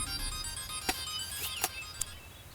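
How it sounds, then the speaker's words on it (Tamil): A phone's ringtone plays as a steady tonal melody with a few short sharp accents, fairly quiet against a low background hum, and no one speaks. "ஃபோன்."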